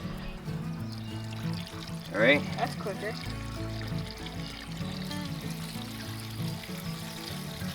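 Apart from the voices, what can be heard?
water pouring from solar water pump pipe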